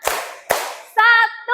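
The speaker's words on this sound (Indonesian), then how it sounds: "Tepuk 1, tepuk 1, tepuk 2, tepuk 2," A school class claps a counted rhythm pattern together. Two loud collective claps are followed by a bright sustained tone, all close and fairly loud.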